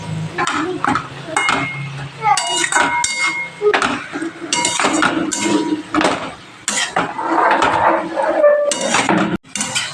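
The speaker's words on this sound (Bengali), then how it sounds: "পেঁপেটাকে আলুর সাথে আমি ভালো করে মিশিয়ে দেবো, অনেকক্ষণ ভালোভাবে নেড়ে নিয়ে।" Diced papaya and potato being stirred together in a pan for papaya ghonto, with repeated clattering scrapes and knocks of a spatula on metal over a light sizzle, and a voice speaking in between.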